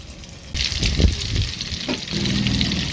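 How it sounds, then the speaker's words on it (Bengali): Butter melting with white oil in a hot kadai, giving a close, steady sizzle with a little stirring and scraping, and no talk. "বাটারটাকে ভালো করে গলিয়ে নিচ্ছি বাটারটা গলে গিয়েছে"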